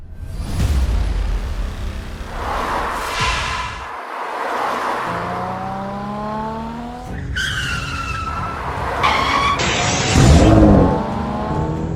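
A cartoon car speeds along and skids in an animated action episode, with loud tire squeals, revving engine and sweeping pitch glides over dramatic background scoring, running throughout without talk.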